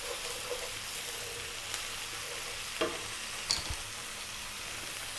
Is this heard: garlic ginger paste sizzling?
yes